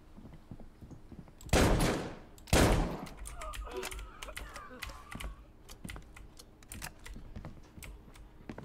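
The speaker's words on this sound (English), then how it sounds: "Shotgun." Two loud, sharp shotgun blasts go off in the video game Deadside, about a second apart, followed by a spatter of quieter clicks and faint activity.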